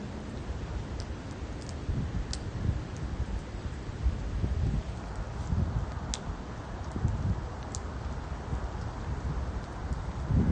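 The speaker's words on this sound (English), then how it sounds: "this is just a moderate rain coming in" Steady moderate rain falls during a severe thunderstorm on Long Island, with a low, rumbling wash underneath, a constant even hiss with no voices.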